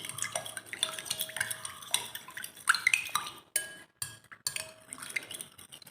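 A spoon stirs a warm-water mixture for chicken roll dough in a bowl, making close, quick, irregular clinks and scrapes against the bowl. The stirring pauses briefly between strokes.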